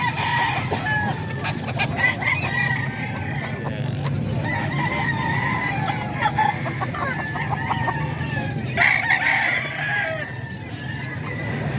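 Chickens and roosters at a busy poultry market in Calumpit cluck and crow steadily throughout, some calls close and others farther off, over a constant background murmur.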